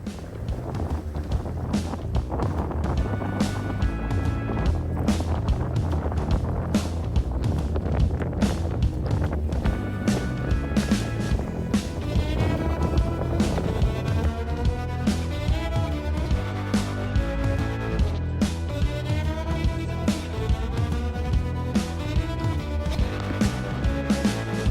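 A sailing yacht underway on a cool, blustery day off the north Devon coast, with steady wind roar over the microphone and a constant rushing wash of water along the hull, loud and unbroken throughout.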